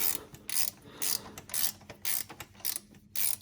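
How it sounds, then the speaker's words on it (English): A wrench ratchets in quick bursts while tightening bracket bolts on a Mercedes SL engine, a close clicking pawl repeating about six times with short pauses between strokes. "So I'm just tightening up where the bracket is at the moment."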